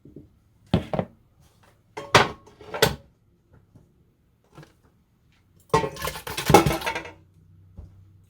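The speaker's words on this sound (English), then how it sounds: "here's the pan I'm going to cook my first batch in" A metal cooking pan is handled in a home kitchen ahead of a batch of homemade peach jam, giving several sharp clanks and scrapes followed by a louder jangling clatter of metal, with no talking.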